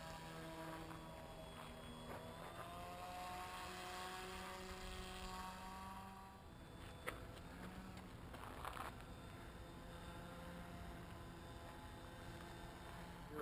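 An RC flying-billboard plane's propeller motor at half throttle, a steady droning buzz with a few tonal whine lines that holds an even level throughout, alone with no talking.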